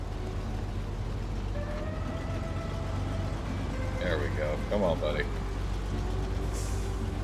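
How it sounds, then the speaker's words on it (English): Heavy truck engine in SnowRunner chugging at a low, steady idle-to-pull rhythm through a dark Alaska stretch, a constant rumble running under a voice, with brief higher whines from the drivetrain partway through. "I like the way this truck sounds too"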